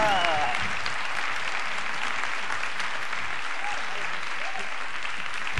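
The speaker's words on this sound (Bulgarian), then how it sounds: "Мога да разбера, що пляскате преди да сте видяли нещо." Audience clapping at a comedy stand-up show, loud sustained applause from a large crowd that holds steady throughout, with a brief voice near the start.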